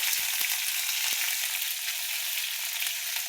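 Green chilies hiss in hot oil in a pan, a steady, bright, close frying sizzle with a few faint clinks near the start.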